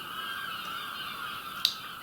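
Seaside seagulls and their newly fledged young call noisily in a constant overlapping chorus, with one brief sharper cry standing out near the end.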